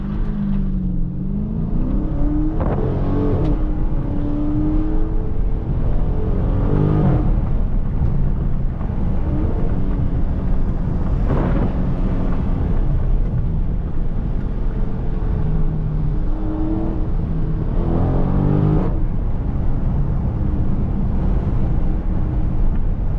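Steady roaring wind rush and road drone fill the cabin of a moving Dodge Challenger Scat Pack Widebody, loud and continuous throughout, with engine swells rising and falling beneath it.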